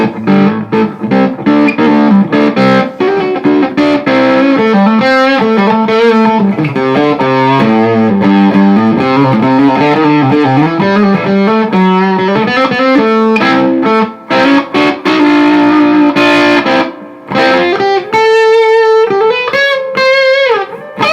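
A 2021 Gibson Flying V Tribute electric guitar plays loud, sustained riffs and chords through a fuzz-like distortion resembling a germanium fuzz mixed with a Tube Screamer, with a brief pause near the end before the ringing notes resume.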